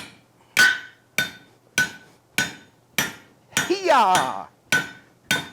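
Steady, evenly spaced hammer blows ring out on a 1/2 inch steel drift driven through hot forged steel, about nine sharp metallic strikes close by, with a short shouted exclamation in the middle.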